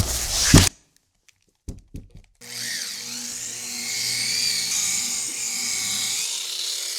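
A machine polisher cuts a car paint panel with Menzerna heavy cut compound to remove deep scratches, spinning up after a few handling thumps into a steady, close whirring drone that varies slightly in pitch under load.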